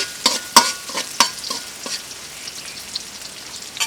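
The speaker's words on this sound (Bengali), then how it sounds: "গরম তেলের সঙ্গে পেঁয়াজ কুচি এবং কাঁচা কাঁচামরিচ কুচি একটু ভেজে নিচ্ছি" Chopped onion and green chili fry in hot oil with a soft sizzle, punctuated by several sharp spatula scrapes and clacks against the pan early on, then quieter stirring.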